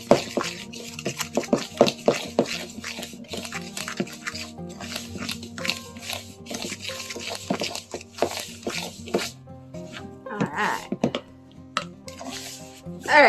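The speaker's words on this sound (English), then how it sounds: "So just add that in and stir until it's crumbly." A crumb topping for a coffee cake is stirred with melted margarine, giving irregular soft squelches and taps of the utensil in the bowl, close and fairly quiet.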